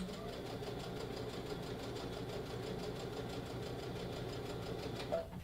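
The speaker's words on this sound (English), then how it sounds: "I am going to go ahead and just take this to my sewing machine and just sew this close" A sewing machine runs steadily, stitching with a fast even mechanical whir and rapid needle clatter, fairly quiet and with no voices.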